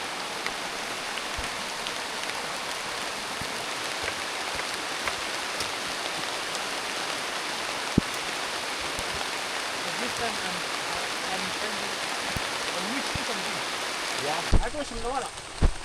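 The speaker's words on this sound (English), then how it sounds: "rain is not what you want right now" Heavy rain pouring steadily in a jungle, a dense continuous hiss with scattered drips and patters, close and loud for the whole stretch, with a brief faint sound near the end.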